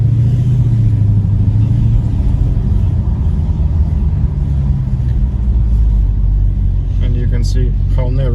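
A Dodge Challenger with a big front splitter rolls slowly over speed bumps on narrow Monaco streets, its engine a low, steady rumble up close, with a voice speaking briefly near the end.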